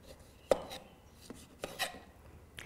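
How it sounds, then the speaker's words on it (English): A knife peels strips of rind down the sides of lemons on a board, with a few soft, close cutting strokes and scrapes, one sharper cut near the start and quieter rubs after it. "Make a flat top and bottom and simply peel it down the lemon."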